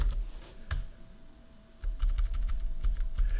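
Fingers type a sudo command and password on a computer keyboard in a quick run of close, crisp key clicks, pausing briefly before a denser burst of keystrokes.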